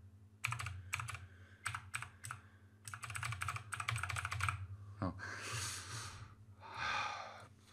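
Keys clack on a HAVIT mechanical gaming keyboard with RGB lighting in bursts of rapid typing, close and crisp, separated by short pauses, with breathy exhales and a sigh near the end.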